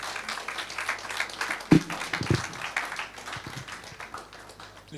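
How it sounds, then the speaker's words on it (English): Audience applause for Dr. Malik King at a live-streamed event, scattered clapping of moderate loudness with a few sharp louder claps near the middle, continuing throughout. "Please a round of applause for him."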